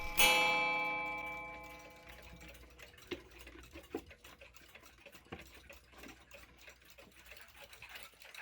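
A circa 1910 Sessions beehive mantel clock strikes once with a bright ringing note that slowly decays, followed by a soft, steady ticking close by.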